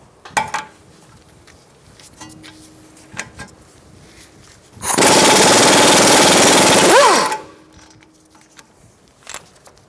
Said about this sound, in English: I'm going to use an 18mm socket to take off this nut.